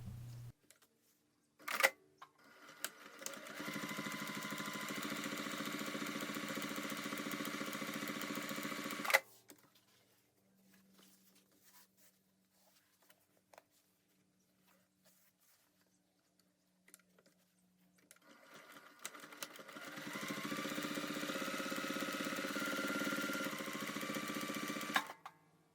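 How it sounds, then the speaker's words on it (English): A sewing machine top-stitches the exterior fabric panels of a crossbody bag near the edge. Two long, steady motor runs with a close mechanical whir are separated by a quiet pause with faint handling sounds. "finger press the seams toward the panels and top stitch on the fabric about 1/8 of an inch from the edge"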